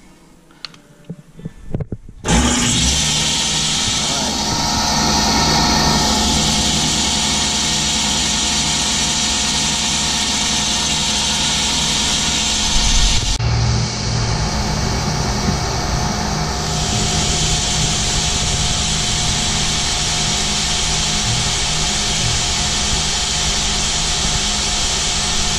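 A Delta Unisaw table saw motor starts up and runs steadily and loudly with a broad whirring hum, its pitch settling after a shift partway through.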